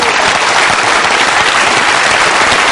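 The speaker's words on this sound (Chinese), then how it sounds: "我们再一次用掌声欢迎他们的到来" Dense, steady studio audience applause welcoming figure-skating couple Shen Xue and Zhao Hongbo to a TV interview, loud and continuous with no talking.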